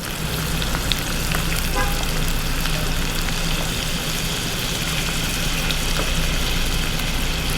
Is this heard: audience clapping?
no